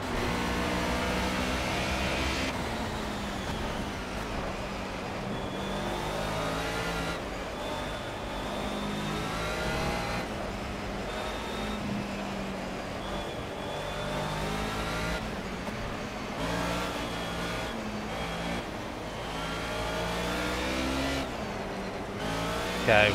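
Mercedes 190E race car in the Project CARS video game at Brno in the rain, engine revving hard through the gears with wheel spin and rising, falling pitch, loud and close, without talk.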